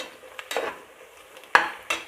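Sliced onions sautéing in a pan with a ladle stirring them, soft sizzling broken by several sharp scraping and clinking strokes of the utensil against the metal.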